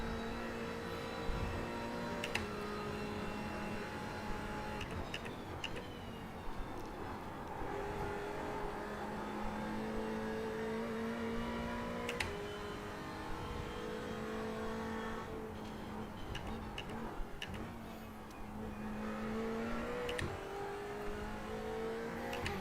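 Simulated race car engine in the iRacing sim at Bathurst, revving through gears with repeated rising and falling pitch sweeps, steady and loud throughout, with occasional shift blips and no talking.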